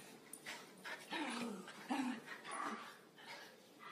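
A dog whimpers and gives several soft, high-pitched yips and barks nearby, the whining sounds rising and falling over a few seconds, fairly quiet overall.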